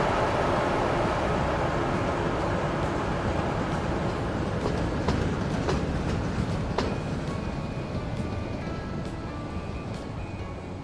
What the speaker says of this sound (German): Das ist also einer von drei Zügen, die hier regelmäßig rein- und rausfahren.